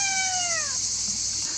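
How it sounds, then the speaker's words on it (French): A house cat meows once, a clear, drawn-out call falling in pitch, close by over a steady hiss of background noise. "C'est le chat."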